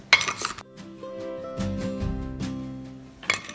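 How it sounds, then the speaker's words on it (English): Sugar and ground cinnamon are stirred together in a small bowl, a steady scraping clink of a utensil against the bowl with a few sharper knocks at the start and end. "you can just take a small bowl and add in the sugar and the ground cinnamon. You will give these two a good mix."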